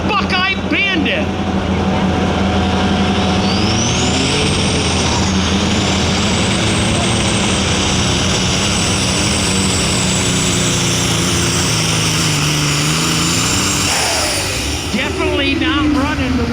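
An alcohol-burning super stock tractor at a tractor pull on a dragway, a loud, sustained engine roar with a rising whine across the whole run and no letup, with an announcer talking over it.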